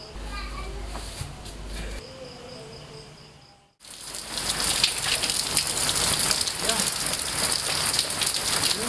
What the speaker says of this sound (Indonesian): Hujan lagi ya?